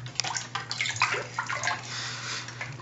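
Plastic toy figures splash and slosh in water beside a GeoSafari Jr. UnderWater Explorer toy boat, with irregular close splashes and trickling over a steady low hum.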